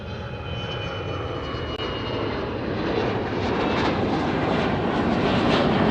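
Fixed-wing airliner departing Honolulu airport, a steady loud jet engine roar building gradually and holding strong throughout, with no voices.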